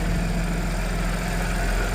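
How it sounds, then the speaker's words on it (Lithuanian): A 2013 Audi A7 engine idles in a steady, unbroken hum with an even low rumble, close and constant throughout. "Tai variklis."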